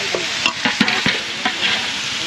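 Food frying in a pan for a home-cooked roast, a close sizzle punctuated by repeated scraping knocks of a spatula stirring, loud and irregular with no voices.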